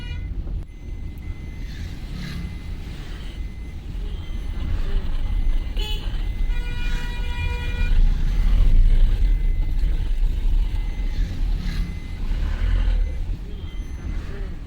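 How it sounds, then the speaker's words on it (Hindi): Busy Indian street traffic with cars, bikes and trucks on all sides, a constant loud engine rumble with repeated car horn toots, one long honk in the middle, heard up close with no talking. "ये देखो राइट लेफ्ट हर तरफ गाड़ियाँ ही गाड़ियाँ है ना।"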